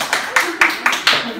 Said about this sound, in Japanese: はい、拍手。